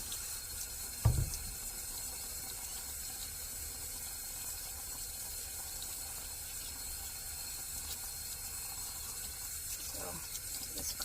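Tap water runs steadily into a sink while a brass instrument is washed, a constant close hiss with one dull knock near the start.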